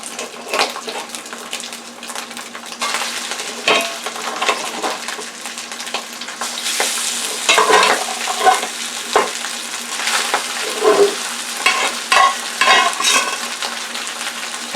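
Rice fries loudly in hot oil in a pan for pork bean fried rice, a dense continuous sizzle punctuated by scraping and stirring as the grains are broken up, close and without speech.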